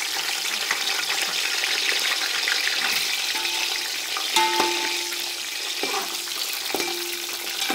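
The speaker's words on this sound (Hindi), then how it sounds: "अब इसी ऑयल में कोफ्ते में फ्राई करूँगी।" Kofta balls for chicken kofta biryani frying in hot oil, a steady dense sizzle with occasional stirring clinks and bumps, close and continuous throughout.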